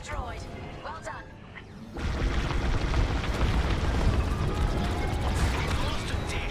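A communications dish blows up in the Star Wars: Squadrons space battle, a sudden deep rumbling blast that cuts in after a quieter stretch of engine noise and radio chatter, then rolls on as a broad roar.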